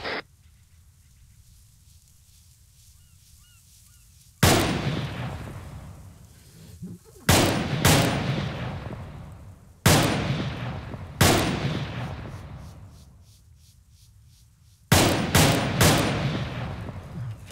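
Gunfire in a video game gunfight near a beach, with several loud, sharp shots and quick clustered bursts, each decaying with echo, separated by quieter gaps.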